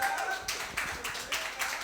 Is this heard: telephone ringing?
no